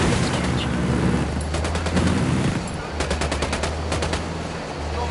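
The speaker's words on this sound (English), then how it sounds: "Opening fire." Gunfire in Ghost Recon Wildlands: loud rapid automatic bursts in dense, overlapping volleys against a constant rumbling background, with brief pauses between runs.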